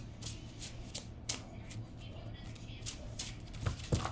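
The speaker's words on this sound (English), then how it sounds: "Let's just let some of the cards fall." Tarot cards shuffled by hand and let fall, a run of soft papery riffles and flutters with a few light slaps of cards landing near the end, close and alone.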